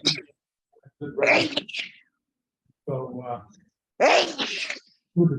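A single sharp sneeze bursts out near the start, followed by scattered talk from people in a meeting.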